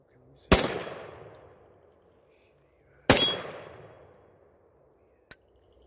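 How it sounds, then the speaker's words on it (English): Two sharp Remington ACR rifle shots, each with a long ringing decay as a steel target is struck, spaced a few seconds apart, followed by a faint brief metallic tick near the end. "Pulled that shot. We're ringing some steel."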